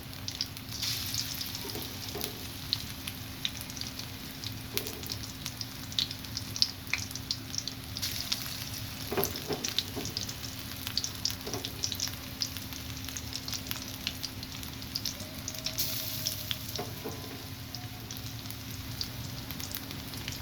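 Lentil and pea fritters frying in hot oil, a steady crackling sizzle with occasional pops and light stirring sounds, close and continuous.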